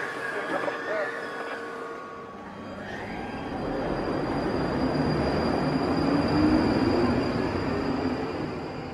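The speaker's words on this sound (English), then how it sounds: "Train on the platform now." London Underground Northern Line train moving at a platform, a rumbling roar of wheels and carriages that builds and holds loud, with a rising squeal of steel wheels over the noise and brief voices near the start.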